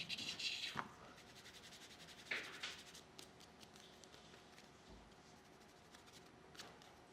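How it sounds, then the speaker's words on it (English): Hand burnishing of a surface produces quiet, intermittent rubbing and scraping strokes, a few sharper swipes standing out against soft friction noise, close and faint. "Give it a little burnish."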